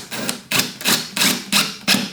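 Screws being driven into a 3D printed plastic filament spool holder, six sharp bursts of ratcheting, grinding noise in a steady rhythm, close and loud, no talking.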